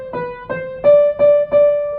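A short sequence of five sustained pitched notes read in treble clef, each struck separately with a clear attack and steady ring, the later three slightly louder and held near the same pitch.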